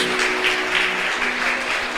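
A church congregation clapping steadily in a reverberant room during a worship service, a continuous wash of applause with a faint sustained tone underneath.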